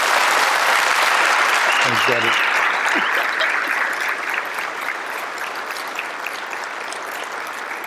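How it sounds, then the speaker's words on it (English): Audience applause at a sheriff's office swearing-in ceremony, a dense, steady clapping wash across the room that fades slightly toward the end, with a voice briefly heard over it. "So I'm gonna ask you to give her a 10 in a round of applause"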